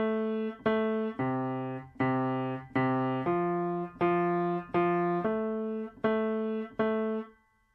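Solo piano plays a steady rhythmic left-hand part, repeated low chords and bass notes in even pulses, loud and close with no voice over it.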